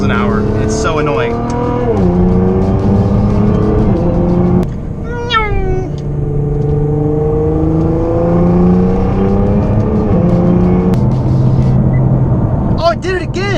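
A car's engine revs loud and close while driving in R mode, its pitch climbing and falling through repeated surges, mixed with high chirping glides.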